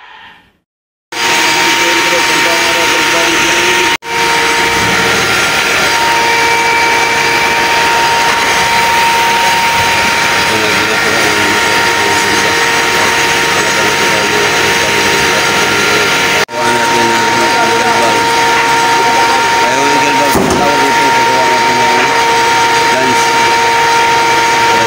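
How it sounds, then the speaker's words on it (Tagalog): A loud, steady industrial blower roars in a workshop where gaskets are made, with a constant droning whine that lasts throughout. It sits close and dominant, with brief interruptions along the way. "Pasensya na po kasi yung maingay, may blower dito."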